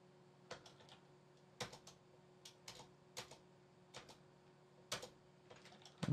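Keys on a computer keyboard are pressed in short, sparse bursts of clicks, close and fairly quiet over a steady low hum, while an Ontap 8 7-mode simulator is installed, with no talk.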